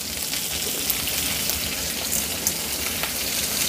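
Adamant creeper (pirandai) frying in oil in a pan for a Tamil chutney, a steady dense sizzle with crackling and no speech over it.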